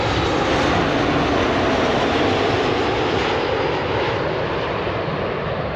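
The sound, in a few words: Southwest airplane landing at high speed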